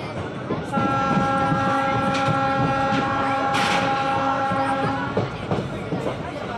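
Night Chakradharpur Express from Howrah towards Purulia rumbling along with a steady, loud rolling drone and a sustained tonal whine, plus brief clatter and faint voices throughout.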